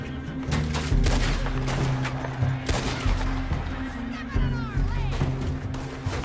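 Rapid volleys of Red Dead Redemption 2 gunfire crack in a dense, loud exchange of overlapping shots and booms, with brief gaps between bursts.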